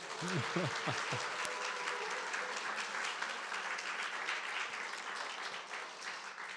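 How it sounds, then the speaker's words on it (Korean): Audience applause fills a church after a call to celebrate youth attendance passing one hundred, a steady dense clapping throughout, with a brief voice at the start. "우리 박수 한번 할까요?"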